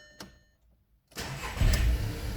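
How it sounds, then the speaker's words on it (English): A 1.2-litre petrol VW Polo engine cranks briefly and catches at once after a camshaft position sensor fault was cleared, settling into a loud, steady idle up close. "It starts straight away, and the engine management light is off once again"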